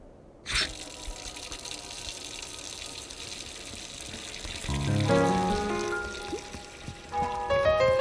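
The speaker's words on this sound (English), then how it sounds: "Gotta turn the water on," A water tap runs in Untitled Goose Game, a steady rushing stream with brighter splashing swelling toward the end, mixed with faint tonal game sounds and no talk.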